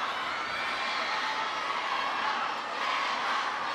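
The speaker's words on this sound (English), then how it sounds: "the crowd is getting a little bit restless" A large crowd in a volleyball arena during a professional women's league match, a dense restless roar of many voices with scattered cheers, steady and distant, with no distinct talk.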